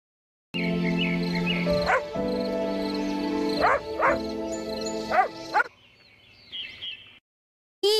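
A cartoon-style dog in an animated phonics song gives a few barks spaced across a few seconds over steady music, loud and close, with no talking.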